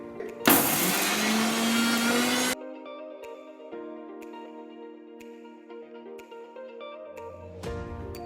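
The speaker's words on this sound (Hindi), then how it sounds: "कवर करके उसको ब्लेंड करेंगे।" Apple and sugar whirring in a kitchen blender for a cinnamon milkshake, a loud dense grinding burst of about two seconds that cuts off abruptly, followed by quieter low hum and background noise.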